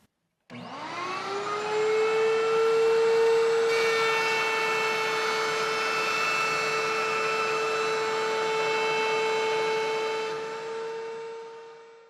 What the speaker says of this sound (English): One of the easiest is to actually use a table router.